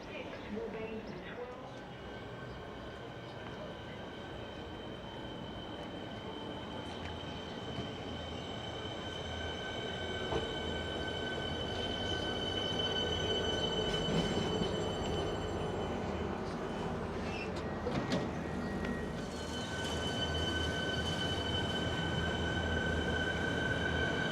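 A suburban train rolls into Footscray station with rumbling wheels and high metallic squeals growing louder, set against a busy platform murmur.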